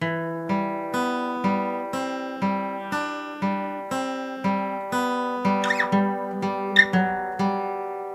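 Single plucked guitar notes sound slowly and evenly, one per half second or so, forming a gentle melody with no voices.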